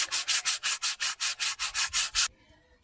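Lada car bodywork paint is rubbed smooth by hand with silk in about eleven brisk, even strokes, a close, regular swishing rhythm that ends in quiet.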